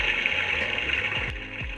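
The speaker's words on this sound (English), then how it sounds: "this privacy sound maker, which makes a loud electronic flushing sound" Electronic flushing sound from a Japanese electric toilet's privacy sound maker in a pod hotel, a steady rushing water-like hiss heard close and continuous, with a few faint clicks near the end.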